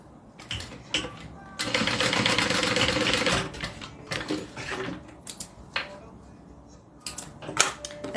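A home sewing machine stitches down zipper tabs on a handmade bag, a steady mechanical whir running for about two seconds between short bursts and clicks of starting and stopping.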